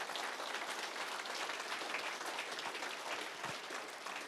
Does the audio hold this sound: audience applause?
yes